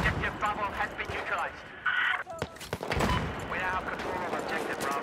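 Gunfire in a Battlefield 4 multiplayer match, rapid shots crackling in bursts close by, with a brief loud blast partway through and a voice talking over the action.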